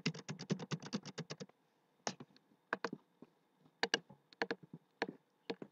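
Values are typed into an Excel spreadsheet on a computer keyboard: a rapid burst of close, crisp keystrokes, a pause, then scattered shorter runs of clicks, with no voices.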